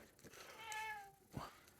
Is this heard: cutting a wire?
no